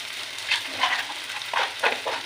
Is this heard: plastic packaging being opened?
no